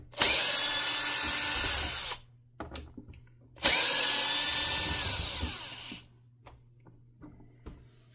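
A power drill drives two screws into the handle of a wooden workbench in two loud, close bursts of about two seconds each, whining as each screw seats, with quiet clicks and handling between them.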